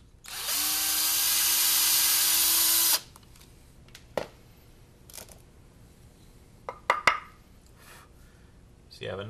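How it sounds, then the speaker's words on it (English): A power drill bores mounting holes for homemade guitar hangers, a steady loud whine of about two and a half seconds that then stops, followed by scattered handling clicks and knocks. "I've already got my locations marked where I want to drill these holes."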